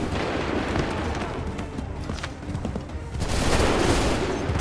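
Sustained musket volley fire crackles through a battle in Assassin's Creed III at Bunker Hill, dense overlapping shots continuing throughout and swelling louder toward the end.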